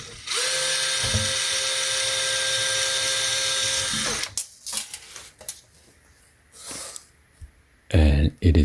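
A DeWalt power drill whirs loudly and continuously for about four seconds while backing out a Phillips screw in an LG washing machine, then stops, leaving scattered clicks, handling knocks and a short burst of talk.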